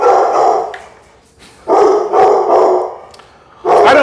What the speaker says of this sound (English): Oh, is that the editor just adding barks?